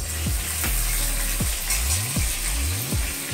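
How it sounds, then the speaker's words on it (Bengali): Vegetables for shukto, a Bengali mixed-vegetable dish, fry in a pan with a steady, close sizzle that runs through the whole stretch. "সব সবজি ভাজা হচ্ছে এখন।"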